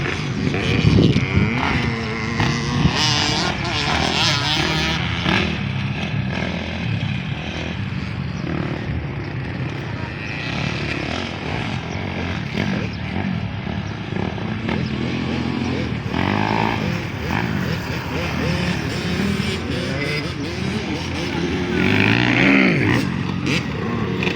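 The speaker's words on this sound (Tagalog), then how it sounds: "wala po talagang magkakaparehong tunog ng kanilang mga motor na ginagamit" Motocross motorcycle engines drone and buzz continuously at a distance, blending with crowd noise while someone talks over them.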